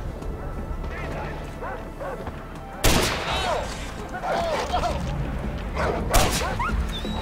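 Dogs in the Far Cry 4 video game bark and yip in short bursts over loud gunfire and game noise, with someone talking over the action.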